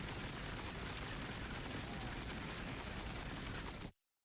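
A dense, unbroken stream of rapid gunfire from the Harlowe gun in a video game, loud and continuous for nearly four seconds before cutting off abruptly into silence.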